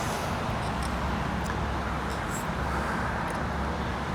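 A Mercury 3.3 HP outboard motor runs steadily with a dense, loud, unbroken engine drone and buzzing rumble, close by and without pauses.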